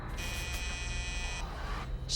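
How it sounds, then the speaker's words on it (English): A front door buzzer sounds as a steady electronic tone for about a second, then cuts off, over a low background hum in a quiet building at night. "started hearing the buzzer to the front door go off"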